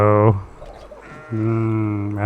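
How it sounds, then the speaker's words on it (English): A goat in the video game Kenshi bleats after being shot, giving two loud, close, wavering cries separated by a brief pause. "Missed and shot a goat."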